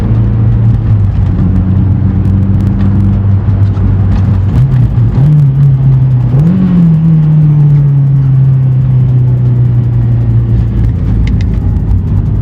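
A Honda Civic Si engine drones steadily from inside the car through quick gear changes, its pitch dropping and then rising again as a loud, constant cabin rumble. No talk is heard.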